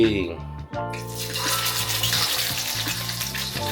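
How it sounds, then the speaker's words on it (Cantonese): Spanish mackerel laid into hot oil in a wok, giving a steady, fairly loud sizzle with bubbling crackle that holds throughout, with music or tones running underneath. "好，我哋依家擺埋馬鮫魚落去先"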